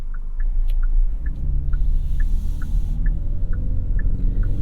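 Cabin of a 2022 Genesis GV70 in sport mode, engine droning steadily with quick 8-speed automatic upshifts, alongside a repeating soft chime ticking at regular intervals over the continuous rumble.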